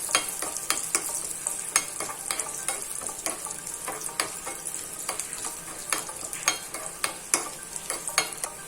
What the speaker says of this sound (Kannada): ಇವಾಗ ಒಣ ದ್ರಾಕ್ಷಿ ಹಾಕ್ತಾ ಇದ್ದೀನಿ ಸ್ವಲ್ಪ ಕೆಂಪು ಬಣ್ಣಕ್ಕೆ ಬರುವ ತನಕ ಕುಡಿದ್ರೆ ಸಾಕು